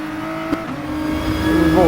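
A race car engine in a racing video game, heard from the cockpit on the final lap at Kyoto: a steady droning engine tone that climbs gradually in pitch as it accelerates, fairly loud and continuous.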